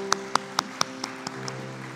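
Congregation claps during a Sunday morning worship service at a university church. About eight sharp, evenly spaced claps land in a quick steady rhythm and fade over a low sustained tone.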